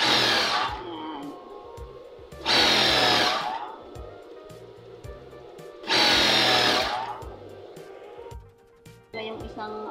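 A sewing machine sews an elastic waistband seam on shorts cut from a T-shirt, running in loud, close bursts with pauses between them while a person talks over the quieter stretches.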